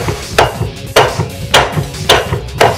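A hammer striking five times at an even, steady pace during water supply pipe work, each blow a sharp, close knock.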